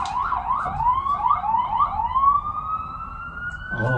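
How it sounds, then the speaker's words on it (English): A wailing siren sweeps up and down in repeated cycles, then holds a long rising tone, fairly loud and passing nearby. "It's hard to keep going when it's sirening."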